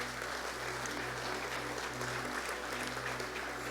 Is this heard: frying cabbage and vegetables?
no